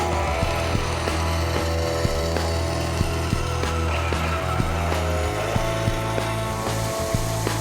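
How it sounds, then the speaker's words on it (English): A bandsaw cutting wood for a deer pedestal mount, its steady motor drone continuous throughout with a rhythmic ticking from the blade, loud and close, no voices. "I head to the bandsaw and cut approximately 1/16 inch away from my line."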